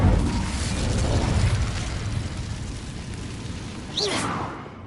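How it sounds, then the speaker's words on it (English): Incendio fire spell cast in the video game Hogwarts Legacy, a burst of fiery whoosh rising out of a dense, continuous game soundscape late in the moment, fairly loud and close. "Incendio."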